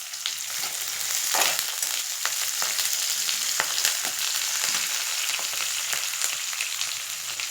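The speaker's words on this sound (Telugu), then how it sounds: "ఫ్రై చేసేసుకోవాలి." Green chilies, onion and curry leaves fry hard in hot oil for a cabbage and moong dal curry, making a dense, continuous crackling sizzle with occasional sharp pops, close and steady, with no talk.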